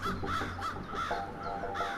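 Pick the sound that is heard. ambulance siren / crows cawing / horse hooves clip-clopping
crows cawing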